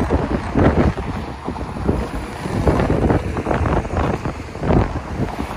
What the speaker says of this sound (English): Whoa, the wind.